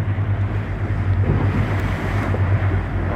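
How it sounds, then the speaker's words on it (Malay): Rough monsoon-season sea churns around a small fishing boat far out on open water, with continuous loud wave wash, splashing and gusty wind buffeting the microphone, no pauses. "Ombak masih belum reda."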